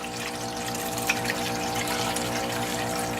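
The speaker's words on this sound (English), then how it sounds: "just gradually let it fall through without trying to disrupt the water flow" Steady water rushing through a fine gold recovery system, a constant close wash of flow with a low pump-like hum beneath it and no talking.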